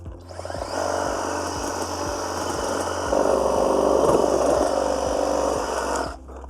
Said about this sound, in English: It's a fairly high bit of conifer we've got here, but yeah, managed to cut it nicely.